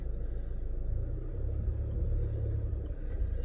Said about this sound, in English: I'm just going to reverse that car.